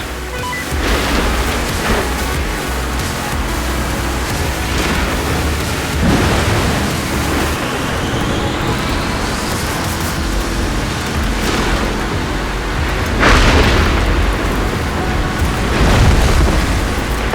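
Rumbling thunder rolls through a rainy storm in the racing game Forza Horizon 4, with several loud broadband cracks and booms close by over steady rain and engine noise.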